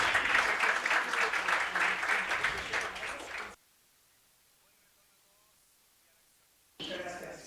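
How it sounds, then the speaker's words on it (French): Audience applause at the close of a regional meeting, a dense steady wash of clapping for about three and a half seconds that cuts off abruptly into silence before another brief burst returns. "Il n'y a pas de meilleure manière de finir cette réunion qu'avec un applaudissement"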